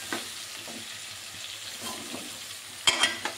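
Chilli powder sizzles in a pan with garlic paste while being stirred, a soft steady frying hiss with light scraping stirs and a few sharper metallic clinks near the end, close and without talking.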